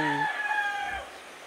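A rooster crows once in Leyte, a loud drawn-out call that trails off, heard nearby with a quiet background.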